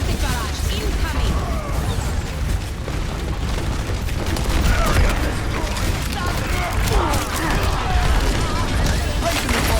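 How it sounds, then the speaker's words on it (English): Pharah's rocket barrage ultimate in Overwatch fills the scene with a loud, continuous rumble of blasts and booms. A voice can be heard talking over it. "Rocket barrage incoming"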